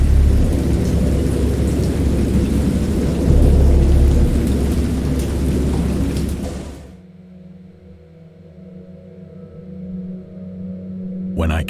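A heavy thunderstorm roars with dense, steady rain and deep rolling thunder for about seven seconds, then falls away to a much quieter, distant rumble with faint low tones.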